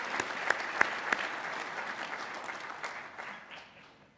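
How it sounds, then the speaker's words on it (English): Audience applause at an awards event, a steady wash of many hands clapping with a few sharp nearby claps, fading toward the end. "Go ahead. Round of applause."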